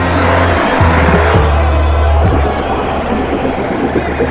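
A Chevrolet C8 Corvette sets off on a drive, its engine giving a loud, deep, continuous rumble close by, with a few brief rises in revs early on before it settles into a steady drone.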